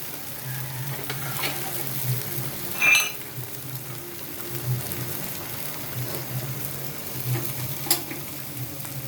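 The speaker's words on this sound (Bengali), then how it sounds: "দেখেন আমার শুটকিটা হয়ে আসছে, আমি এটাকে এখন নামিয়ে নিব" Dried mola fish frying in a pan, giving a soft continuous sizzle with occasional light stirring scrapes and a brief clink, all steady and fairly quiet.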